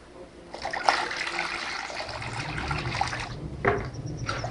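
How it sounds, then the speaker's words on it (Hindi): Water is poured into a thickened mixture for making cone ice cream, a close splashing trickle that rises for a few seconds, then a second short pour, with faint background noise. "थोड़ा सा और पानी डालें।"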